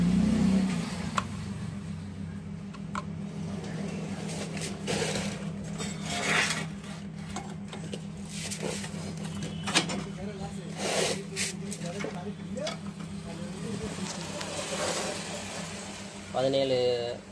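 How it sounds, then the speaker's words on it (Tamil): Dirt and rust are scraped off the silencer port of a TVS XL moped, a long, continuous rasping scrape close by under a steady background drone. "இந்த போரில் வந்து ஏதாவது அழுக்கோ துருவோ இருந்தால் நல்லா சுரண்டிட்டு தான் மாட்டணும்."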